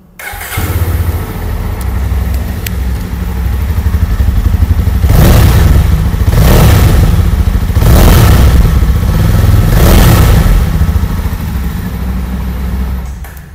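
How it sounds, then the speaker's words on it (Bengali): A 2024 Jawa Bobber 42 Black Mirror Edition motorcycle idles with a deep, bassy rumble, then its engine is revved in four strong, roughly evenly spaced bursts before settling back, loud and close with no talking. "এবার এটার তোমাদের আমি সাউন্ডটা শুনিয়ে দিই যে কেমন সাউন্ড করে বাইকটা"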